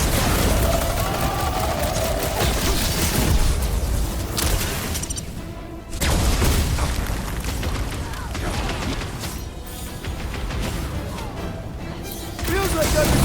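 Dense combat audio from the video game Guardians of the Galaxy, with rapid gunfire, bursts and booming explosions running continuously under character voices, briefly dropping out before resuming just as loud.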